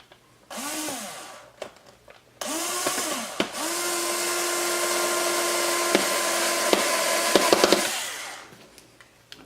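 A power tool drives 5/8-inch-long screws into a box quad frame: a loud, steady motor whine in short bursts and then one long run, with brief clicks and a falling pitch as each screw seats.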